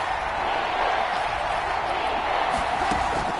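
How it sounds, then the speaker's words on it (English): Steady roar of a football stadium crowd at a Detroit Lions game, a broad, continuous wash of cheering voices with no breaks, moderately loud and distant-sounding. "Crowd getting in it a bit already."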